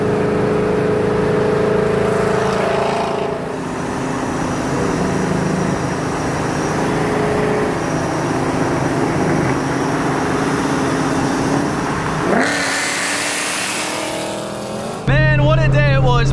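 Ford Mustang S197 cars driving and revving, loud engine drone with shifting pitch, a sharp rising rev near the end followed by a rough burble, with people talking over parts of it.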